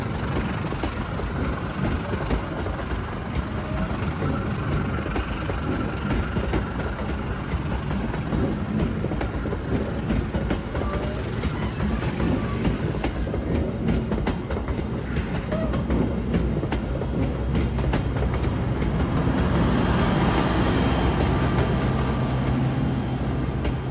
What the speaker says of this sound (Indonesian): Nah, ini kereta api sedang melintasi wesel.